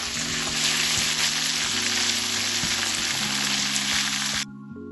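Kilimeen fish coated in green pepper paste fries in a pan, a loud continuous sizzle with faint clinks and crackles that cuts off abruptly near the end, leaving a quiet hum.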